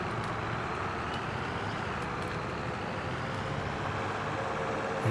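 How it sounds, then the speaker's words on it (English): A tractor driving through a hay field, a steady broadband engine drone with rumbling, heard continuously and fairly distant, no talking. "Yeah, it's a bit faster, this tractor."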